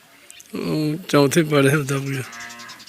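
Cows on a goat farm in India moo in a few drawn-out, tonal calls, close and fairly loud, with a short pause between them and faint background noise.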